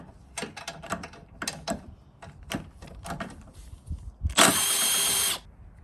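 Wrench work frees 13mm bolts from a fuel tank bracket on an Avant 528 loader: a run of quick metallic ratchet clicks, then a loud, steady second-long whir of a power driver, close up and without speech.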